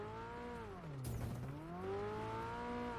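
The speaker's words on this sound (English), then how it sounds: "Such a nice sounding car." A car engine in a game hums steadily, its pitch dipping as it passes close by with a brief whoosh, then climbing again.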